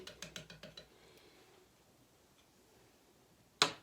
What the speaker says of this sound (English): So I'm just gonna give this one last whisk.